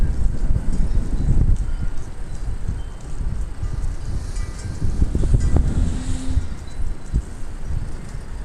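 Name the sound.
gust of wind blowing on a damaged metal roof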